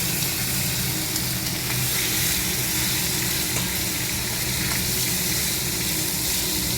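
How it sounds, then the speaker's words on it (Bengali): A fish head fries in oil with mustard seeds, giving a steady, dense crackling sizzle that holds at an even level from start to finish, with no talking. "মাছের মাথাটা একটুখানি ভেজে নেবো"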